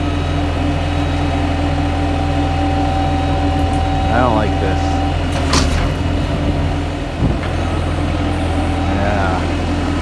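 A dump truck idles nearby with a steady low engine rumble and drone, while a person speaks briefly over it and a short higher squeal cuts in partway through.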